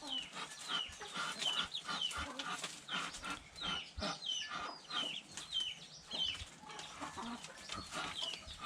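Backyard laying hens clucking and calling in a mixed flock, busy overlapping bird calls at close to moderate range with no talk, alongside ducks kept behind the house.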